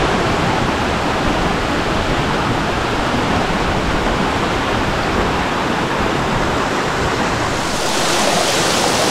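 Latourell Falls pours into the river below in a steady, loud broadband roar of rushing water, constant throughout with no voices over it.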